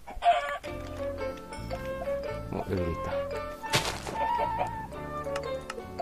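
Minecraft chicken clucking in a short run of game sounds amid background music, with someone speaking briefly over it.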